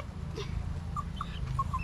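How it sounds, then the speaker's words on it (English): Chickens cluck in short bursts over a steady low background rumble, with a few brief chirps scattered across the clip. "Put your hand out for the chickens."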